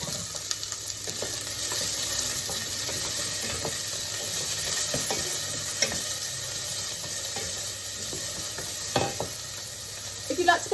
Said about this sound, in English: we're going to chop our peppers into nice little 1 centimetre cubes and pop that in just to fry off for a minute